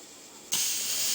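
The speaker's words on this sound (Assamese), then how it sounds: "3টামান হুইচেল দিয়াৰ পিছতে মই এইটো বন্ধ কৰি দিছোঁ" A pressure cooker cooking khichdi suddenly lets off a loud, sustained hiss of escaping steam after a quiet start.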